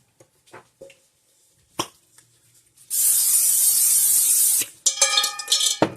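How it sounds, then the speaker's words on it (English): Cooking oil spray is released into a dry bowl in one steady hiss lasting about two seconds, preceded by a few light clicks and handling taps and followed by rattling knocks. "I am going to spray this bowl with some oil spray"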